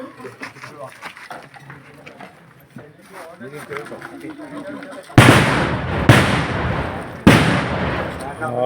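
Three sharp, loud bangs from nearby firecrackers at the Nilambur Pattulsavam festival flag-hoisting, around 2:45 am, burst out one after another, preceded by several seconds of people talking.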